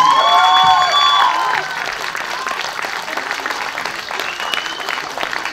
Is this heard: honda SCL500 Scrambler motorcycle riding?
no